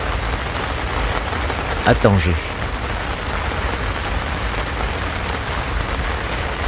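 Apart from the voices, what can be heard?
rain falling in Tangier, first rain in two months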